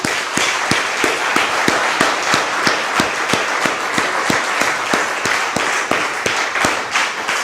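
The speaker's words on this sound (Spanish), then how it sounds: "Denle un aplauso, por favor, a Dios." A church congregation applauds, dense clapping overlaid by sharp, evenly spaced rhythmic beats like a drum or hard tap pulsing about three times per second, steady and loud throughout.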